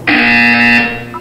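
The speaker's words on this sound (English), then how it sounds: "When you hear the buzzer, look down at the floor." A single loud electronic buzzer sounds in the video game Portal 2, a steady harsh tone lasting about a second before cutting off, alone and close.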